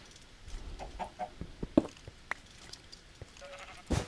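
Chicken clucking in Minecraft, a few short, soft game-sound clucks and bleat-like calls scattered over a quiet background, with a brief louder burst near the end.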